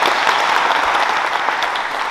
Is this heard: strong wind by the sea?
no